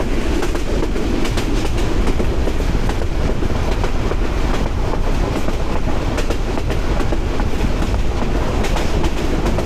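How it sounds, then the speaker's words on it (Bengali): A Balaka commuter train of Bangladesh Railway runs at speed through forested national park land, a loud continuous rumble from on board with rhythmic clickety-clack of the wheels and some wind buffeting throughout. "ট্রেন ভালোই স্পিড দিচ্ছে, ভালোই।"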